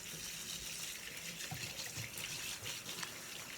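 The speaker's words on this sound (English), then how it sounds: "So you're going to wash your hands" Tap water runs steadily over hands being washed at a sink, a continuous broadband splashing hiss with small irregular spatters as the hands move, fairly close and alone without any talk.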